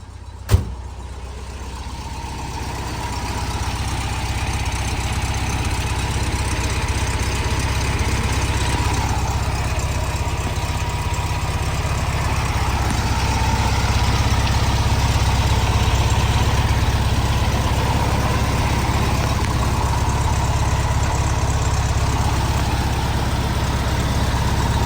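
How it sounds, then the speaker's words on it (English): A 1958 Volkswagen Beetle's original 36 hp air-cooled engine idles steadily in neutral, a continuous close low rumble with even mechanical chatter and a slight rise in level midway, with no talking. "original 36 horsepower engine"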